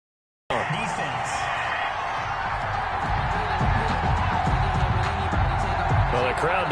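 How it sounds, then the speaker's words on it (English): A dense stadium crowd in an American football video game roars and boos in a continuous loud wash that starts abruptly and swells slightly, under a commentator's voice. "Well, the crowd doesn't like that."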